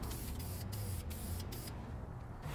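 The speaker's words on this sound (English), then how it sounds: "you want to spray light, even coats" An aerosol can sprays clear coat onto an engine valve cover in short, quiet hissing bursts with brief pauses between passes, and no voices are heard.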